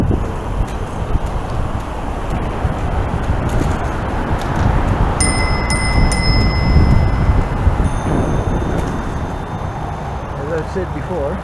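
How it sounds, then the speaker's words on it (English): A bicycle-style bell on a recumbent trike rings several times in quick succession near a blind corner on a ride beside a highway, bright repeated dings over steady road and traffic rumble. "always ring my bell when I'm going into a blind corner"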